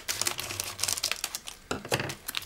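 A citric acid packet for a DIY bath bomb kit is snipped open, giving close, busy crinkling and rustling of packet material with sharp cutting snaps, all without talk.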